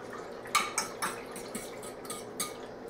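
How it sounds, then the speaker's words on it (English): Yogurt starter being whisked in a pot: a series of light metallic clinks and taps of the whisk against the pot, irregular and fairly quiet, close by. "Now continue whisking"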